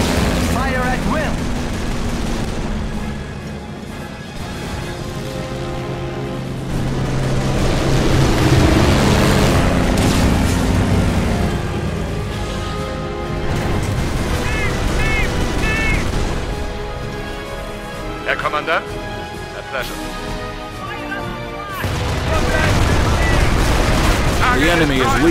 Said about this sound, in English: Anti-aircraft batteries manned. Fill the skies with tracers. Aircraft incoming. Fire at will.